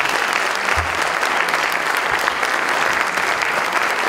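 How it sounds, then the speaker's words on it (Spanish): Sustained audience applause at a Mexican book presentation on handling social media attacks, honoring a public relations pioneer; a loud, dense, continuous clapping from a crowd with no talk over it. "don Manuel Alonso Muñoz, para quien pido un aplauso"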